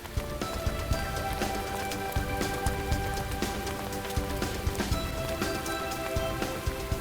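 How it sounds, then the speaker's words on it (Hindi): Steady rain patters on a hard surface, dense drops falling continuously with a few louder splashes, no voices. "बारिश कहाँ से आ गई चलो यार?"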